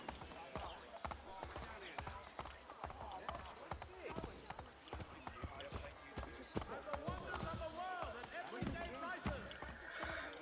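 Horse hooves clip-clop in a quick, steady rhythm as a rider travels in the video game Assassin's Creed III. The hoofbeats run under game sounds and speech.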